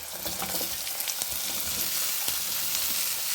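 Eggplant and onions fry in a pan for a Telugu-style brinjal curry, giving a steady, loud broadband sizzle with soft scattered crackles and faint stirring clicks, no talking over it.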